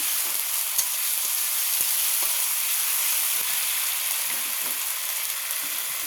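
Ground spice paste for a koi fish curry sizzles steadily in a hot pan as it is stirred, making a constant hiss with a few faint scrapes and no talk.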